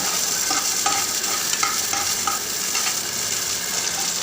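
Garlic cloves and curry leaves frying in hot oil for vatha kuzhambu, a steady close sizzle with spoon stirring clicks scattered throughout, no talking.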